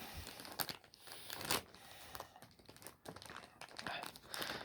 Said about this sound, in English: Sometimes hard to open a plastic bag with one hand.